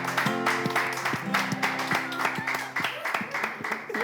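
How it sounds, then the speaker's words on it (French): An audience at a New Year's Eve gathering claps for Yannicka: a steady run of close, sharp handclaps over background music, lasting a few seconds. "on va applaudir Yannicka"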